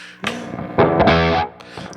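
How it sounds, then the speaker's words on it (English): Short bursts of heavily fuzzed P90 electric guitar through a Star Eater fuzz pedal, thick and buzzy, a couple of sustained distorted chords cutting off abruptly. "So I've got the fuzz kind of at noon and the volume's just where it is."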